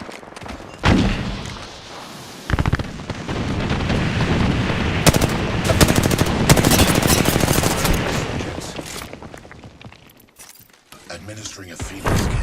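Incoming fire aimed at the player in an online shooter, sharp shots and sustained machine-gun rattle with impacts and a shattering crack, loud and near, fading toward the end while voices come through between bursts.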